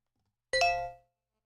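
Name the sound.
phone text message notification sound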